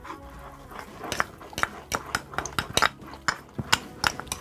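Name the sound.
stirring foxtail millet flour into the pan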